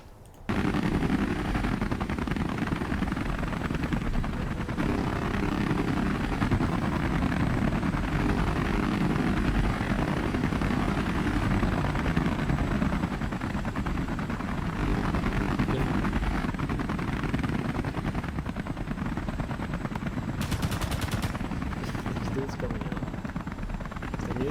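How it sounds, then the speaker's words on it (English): A CH-47 Chinook helicopter in a multiplayer survival video game, heard as a loud, steady rotor and engine roar that drones on without a break throughout. "We have the CH-47 Chinook Slingload Claw in multiplayer survival."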